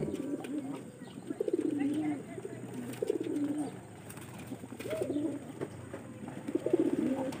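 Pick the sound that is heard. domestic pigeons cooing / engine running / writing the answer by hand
domestic pigeons cooing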